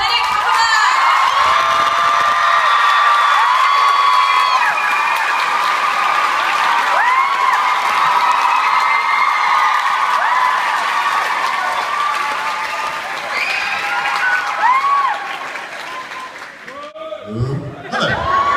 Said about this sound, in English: please put your hands together for Benedict.